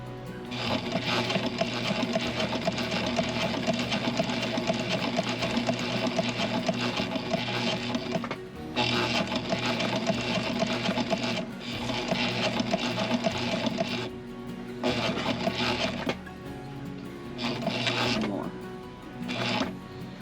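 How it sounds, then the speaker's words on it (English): An indoor sewing machine aboard a boat stitches fabric in bursts of rapid mechanical whirring separated by short pauses, while a voice speaks in places. "we're going to sew to this white line"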